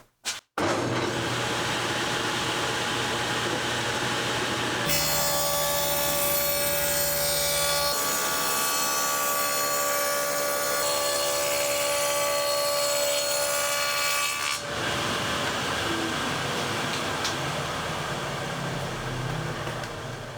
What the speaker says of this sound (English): I ended up recutting these rabbets so that they're 1/2 inch deep